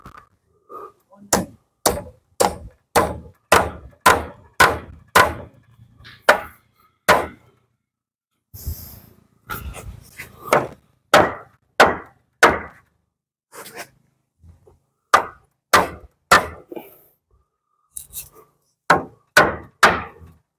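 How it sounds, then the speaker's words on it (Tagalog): Sharp, loud hammer blows drive nails into soft wood while roofing a farmhouse, in quick bursts of several hits separated by brief pauses, close by. "Dalawang pako mo lang, dalawang pukpok lang."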